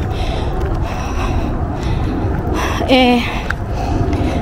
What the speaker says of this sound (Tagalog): Kaya lang ako hinihingal ngayon is because tumakbo nga ako.